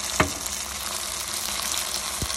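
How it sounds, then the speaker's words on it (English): Steady close sizzling of pure tomato sauce in a hot pan, with a couple of brief knocks from stirring. "You can hear it sizzling, so we're going to mix it together."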